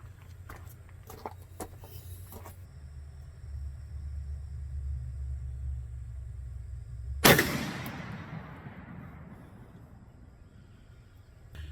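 A single 12 gauge Foster slug fired outdoors at a range, one sharp loud report with a long rolling echo fading away over several seconds after a stretch of quiet rumbling ambience.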